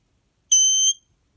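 Snap Circuits electronic horn set off by a phototransistor, giving one loud, piercing, high-pitched tone that lasts about half a second and then stops, with silence before and after.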